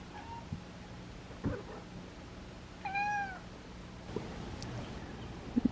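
A domestic cat gives a single short, clear meow in a quiet room, with a few soft knocks and rustles around it.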